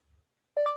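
Google Assistant activation beep on a phone, a single short, clear two-tone chime that sounds loud and close right after a brief spoken wake phrase.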